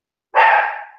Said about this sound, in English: My stupid dogs.